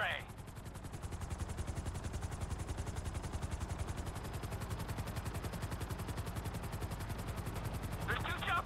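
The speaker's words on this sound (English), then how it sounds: "There's two choppers coming toward my train." Two helicopters approach in GTA 5, their rotors making a steady rapid thumping that runs throughout at moderate loudness, with short bursts of louder sound at the start and end.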